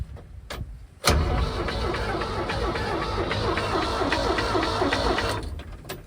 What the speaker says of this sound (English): All right, she's cranking.